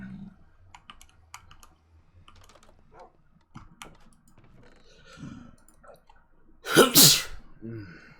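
A person sneezes once, loud and close, breaking into a stretch of quiet computer keyboard typing and clicking during a Minecraft stream.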